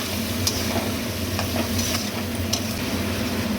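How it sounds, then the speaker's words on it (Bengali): Cashew nuts sautéing in a pan for methi murgh, a steady close sizzle with faint stirring scrapes now and then, no voices. "এবার দিলাম কাজু বাদাম। এবার আমি কষে নেব।"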